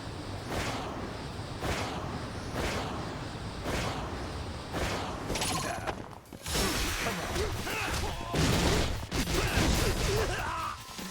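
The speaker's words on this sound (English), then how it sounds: "That attack with the crane style is so loud." Crane-style fight attacks in the video game Lost Judgment land as a rapid series of loud whooshes, smacks and crashes, densest toward the end, over continuous game noise.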